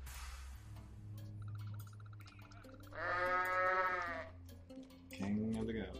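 In the Goat Simulator video game, a goat lets out two loud, drawn-out bleats, a long one in the middle and a shorter one near the end, over low background game music.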